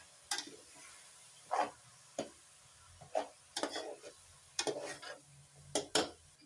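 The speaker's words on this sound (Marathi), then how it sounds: "परतून घेते." Banana flower vegetable and dal are stirred in a pan for a Malvani-style dish, a series of sharp scraping and clinking strokes from the spatula at an irregular pace, close up, over a faint background sizzle, with no talk.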